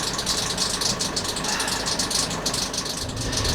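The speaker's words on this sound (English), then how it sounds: "Our alternator doesn't sound good at the moment." A sailboat's inboard engine runs at idle with a faulty alternator, giving a steady mechanical hum and a fast, rough rattling texture that continues throughout.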